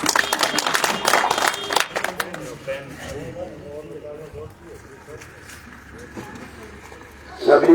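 Crowd applause and clapping at an outdoor political rally, a dense burst of many hands for the first two seconds, then fading into murmur and talk, with another short swell of clapping at the end.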